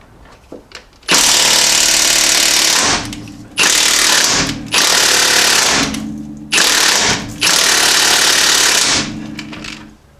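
A power ratchet or impact tool works on the 5/8 steering box bolts of a Jeep XJ, with four long, loud, harsh bursts of rapid rattling, each lasting one to three seconds and separated by short pauses, close by and with no talk.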